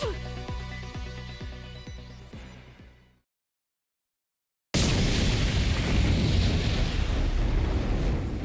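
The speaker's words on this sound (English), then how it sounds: "Immediately after, there was a large explosion and undying flames engulfed the entire area." A huge explosion in The Hundred Line: Last Defense Academy bursts in after a sudden silence, a dense, roaring wall of noise that stays loud and sustained. Rhythmic music plays before the gap.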